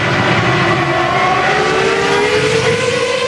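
A 2002 Ferrari Formula 1 car racing at the Hungarian Grand Prix, a loud high-pitched engine wail that climbs steadily in pitch as it accelerates, sustained and close with no speech.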